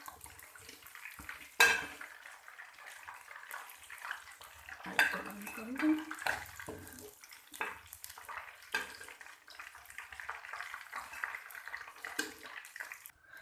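Crispy fried chicken being dished out of a pan onto a plate, with scattered clinks of utensils and cookware and soft scraping, close by and fairly quiet, with no one speaking.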